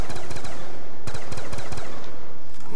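Rapid bursts of automatic gunfire from zombie-shooting in Call of Duty Black Ops 2 Zombies, loud and close, with several clustered volleys and a short pause near the middle, no talking.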